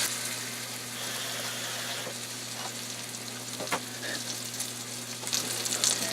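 Pork loin pinwheel searing in hot oil in a pan, giving a steady, fairly quiet sizzle and crackle throughout with a faint hum beneath and a few brief sharper pops near the end.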